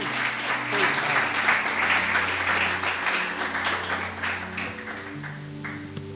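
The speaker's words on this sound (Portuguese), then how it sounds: "Ocupe as mãos e aplaude o Senhor Jesus." Church service audience clapping steadily and fairly loudly, with sustained keyboard or music tones underneath throughout.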